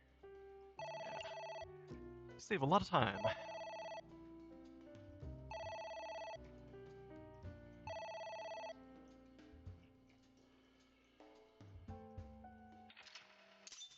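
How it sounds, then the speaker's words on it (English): A telephone rings inside the video game AI: The Somnium Files, repeated electronic trilling bursts set against game music, with a brief spoken phrase partway through. "It's ringing again."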